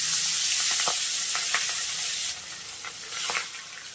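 Fish heads frying in hot oil over a medium-high flame, giving a steady loud sizzle with scattered pops and spits throughout, close up and without talk.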